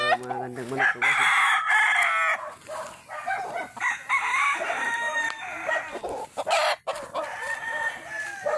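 Chickens and roosters on a mountain farm, with several loud nearby cock-a-doodle-doo crows and clucking that carry on through the whole stretch, backed by faint outdoor noise.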